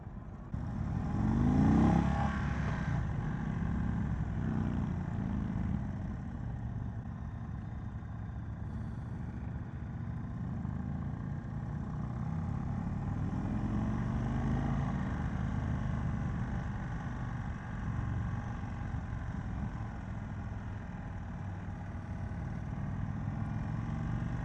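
Engine of a 2022 Indian Chief motorcycle under way on a test ride, a steady low rumble with wind noise throughout, louder briefly near the start and otherwise constant, with no talking.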